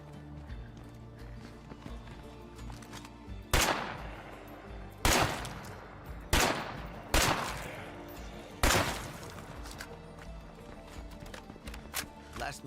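Gunfire from a gun in the LEGO Horizon Adventures video game: four or five loud, sharp single shots spaced about a second apart, each ringing out briefly over a steady bed of game music and ambience.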